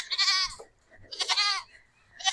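Goats on a hot summer farm bleat loudly at feeding time: two long, close, wavering bleats separated by a short pause, then a third beginning at the end.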